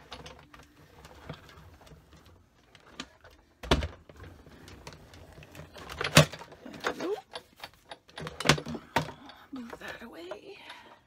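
A Big Shot embossing machine cranks a blue card layer through in short, uneven bursts of mechanical clicking and grinding, fairly quiet and close, with pauses between turns.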